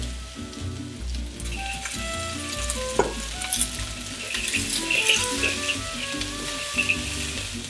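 Chili peppers sizzle in hot oil in a wok for kung pao chicken, an intense close crackle with spatula stirring and scraping, the frying constant throughout with no voices.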